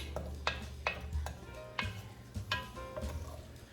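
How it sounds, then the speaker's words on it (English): A spoon stirring basil into homemade tomato sauce in a pot, a quiet series of about eight irregular metallic scrapes and clinks, soft and close. "We're going to stir this in and cook this for around 5"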